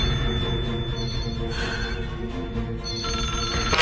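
A telephone rings with a steady electronic tone amid background noise, continuing for a few seconds.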